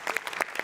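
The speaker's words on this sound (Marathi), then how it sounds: "याच्यात तुझ्या लेखकासाठी जोरदार टाळ्या एकदा" A studio audience at a comedy show claps in a brief burst, dense overlapping handclaps heard close and moderately loud.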